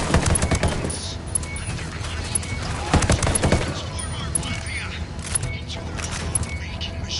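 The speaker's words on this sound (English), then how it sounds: "I'm shooting these fuckers." Gunfire in the Ghost Recon Wildlands video game, with sharp shots cracking in irregular bursts over game noise, and someone talking over the action.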